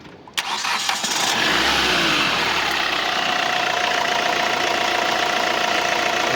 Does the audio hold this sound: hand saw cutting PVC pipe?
no